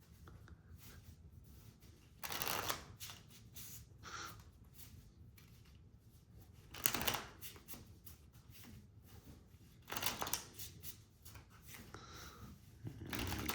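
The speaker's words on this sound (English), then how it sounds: "So we start off by giving the deck a nice big shuffle." A deck of Anomia cards being riffled and shuffled in a few quick bursts, separated by quieter stretches of soft handling noise, close to the microphone.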